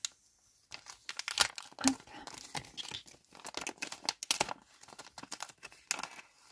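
A parcel being opened, paper tearing and crinkling in irregular bursts, close and fairly loud, with a brief spoken word over it.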